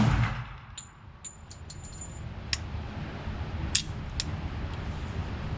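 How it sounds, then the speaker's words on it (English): A Sig Sauer P220 Sport pistol fires a few sharp, isolated shots that sound somewhat distant against a low background hum, with brief metallic clinks between them. "What a soft shooting gun."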